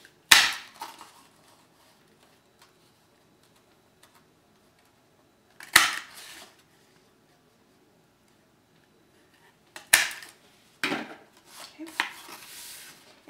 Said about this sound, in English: I'm going to use the scallop border punch and just scallop the edge of this one.